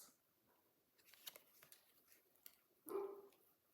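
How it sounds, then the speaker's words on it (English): A dog barks once, close and fairly loud, near the end of an otherwise quiet indoor stretch with faint scattered handling sounds. "might have to stop and let my dog in"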